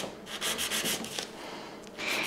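Nail file rasping across a square-shaped fingernail in slow back-and-forth sawing strokes, a soft close scratchy rubbing that repeats several times in short bursts with brief pauses, no talking.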